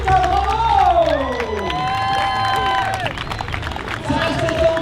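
A crowd cheers and applauds a race winner at a trail running event around Mont Blanc, loud and continuous with shouts and whistling over broadband clapping, while a voice talks through it.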